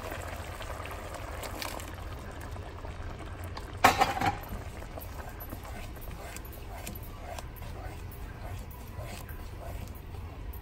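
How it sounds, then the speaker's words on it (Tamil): A pot of egg gravy with ground coconut paste simmers with a faint, steady bubbling, broken once by a brief clatter near the middle. "இப்போ குழம்பு நல்லா கொதிச்சு வந்தாச்சு"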